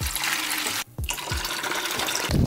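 Water runs and splashes during a water change on a 45-gallon reef aquarium, a continuous pouring wash broken by a brief pause and a few low gurgling thumps.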